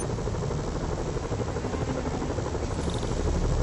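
Helicopters in Marvel's Spider-Man drone on in a constant close rotor buzz, loud and unbroken throughout with no voices over it.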